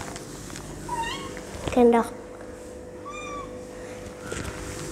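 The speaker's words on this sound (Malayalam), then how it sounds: "നോക്കി, നമ്മുടെ പൂച്ച ഇവിടെ വന്ന് നിൽക്കുകയാണ്." Pet cat meowing in a home kitchen near plates being cleaned, a few short separate meows spaced over several seconds, close and clear, with someone talking briefly in between.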